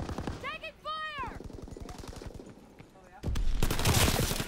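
Gunfire in the World War II shooter Call of Duty: WWII, a rapid automatic burst of shots hammering in a steady rhythm, then a louder, denser volley near the end, with voices and game effects mixed in.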